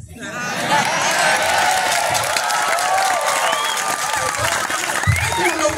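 An audience at a Balinese performance bursts into sustained applause mixed with cheers, whistles and shouting voices, loud and close, holding steady throughout.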